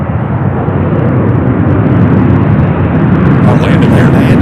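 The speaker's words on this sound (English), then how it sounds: "Southwest taking off here." A Southwest Airlines airplane takes off at Louisville International Airport, its engines a loud, broad, sustained roar that holds steady and close for the whole stretch.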